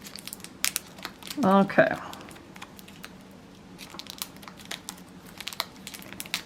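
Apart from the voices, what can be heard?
tearing open and handling a bag of fruit and veggie potting soil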